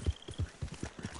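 Horse hooves clip-clopping in the Red Dead Online video game, a quick regular rhythm of about six soft thuds, fairly quiet and close, with no clear neigh.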